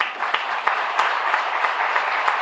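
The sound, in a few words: applause for children at a speech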